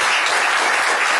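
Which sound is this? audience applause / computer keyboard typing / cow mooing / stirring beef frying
audience applause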